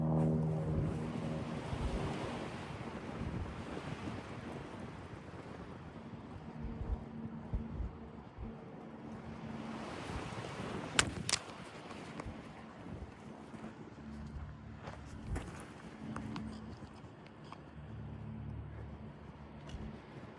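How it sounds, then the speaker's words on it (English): Wind blows steadily outdoors and buffets the microphone in a continuous low rumble with gusts rising and falling, a faint voice talking beneath it. "This wind is really fighting me today."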